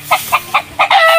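Chickens at a neighbor's house cluck in four short, evenly spaced bursts, then a rooster crows loud and close.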